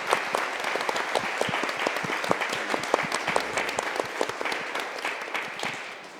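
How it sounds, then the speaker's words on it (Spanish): An audience at a seminar applauds its three panelists, many hands clapping in a lively, uneven patter with sharp individual claps standing out, steady throughout and easing off slightly at the very end. "Un último aplauso a nuestros tres panelistas."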